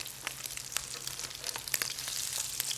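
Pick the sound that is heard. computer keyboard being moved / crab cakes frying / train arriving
crab cakes frying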